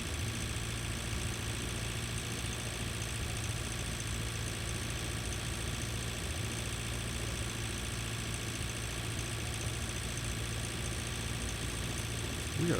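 Tractor engine in the farming game Pure Farming 2018, a steady humming drone while driving at speed, even and continuous throughout with no talk over it.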